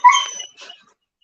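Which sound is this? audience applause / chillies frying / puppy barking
puppy barking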